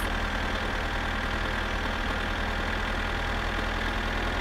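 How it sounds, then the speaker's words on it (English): Steady idling drone of a tractor engine in the driving game My Summer Car, a continuous low rumble with a faint knocking pulse holding evenly throughout, no voices. "That drive feels so long in a tractor."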